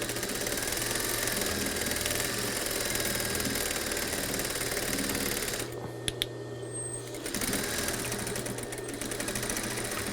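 A sewing machine stitches steadily forwards and backwards over a hole in thick denim jeans, a fast continuous mechanical whir that pauses briefly with a couple of clicks before resuming; no speech.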